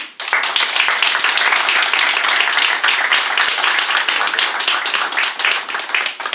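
Loud, dense clapping from a seated audience at an Atatürkist Thought Association panel in Dikili welcomes a speaker to the stage, sustained and even throughout.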